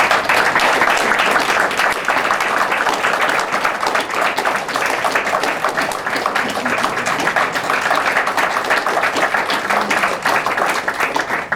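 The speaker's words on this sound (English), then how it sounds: "I think you deserve a big round of applause" Long, sustained round of applause from an anniversary gathering honoring current and former faculty, dense crowd clapping holding steady and loud throughout.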